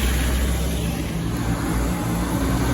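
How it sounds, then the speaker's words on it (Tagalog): A truck drives through a street flooded after a typhoon, making a continuous loud rumble and wash of churning water with no talk over it. "Ayan, lumadaan na yung truck dito."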